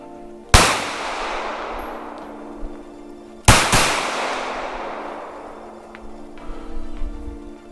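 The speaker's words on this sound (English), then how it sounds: "We'll fire some shots, I guess, to try to run the bear off." Two loud gunshots fired outdoors near a food plot to scare off a bear, each a sharp crack followed by a long decaying echo, spaced about three seconds apart.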